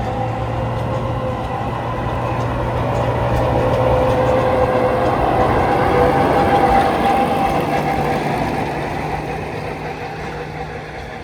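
The Snowdon mountain train in Wales rumbles steadily with a low engine drone and faint tonal whine, growing slightly louder mid-way then easing off, no voices.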